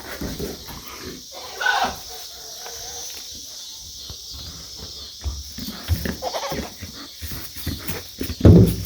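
Close, snuffly grunts and snorts from a dog, pig-like and irregular, come in short bursts against a quiet room.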